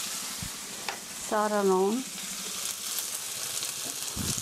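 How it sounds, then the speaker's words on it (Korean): Chili flakes stir-frying in oil in a pan for a pork rice bowl, a steady close sizzle with light stirring, while someone speaks briefly over it. "살짝 볶아서 고추기름 나오게 해주시고요"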